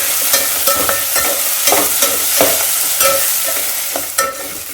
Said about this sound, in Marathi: हे मसाला छान परतून घेऊयात.